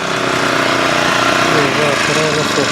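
A small kolpani weeding machine's engine runs steadily and loudly at close range, with continuous droning and no pause.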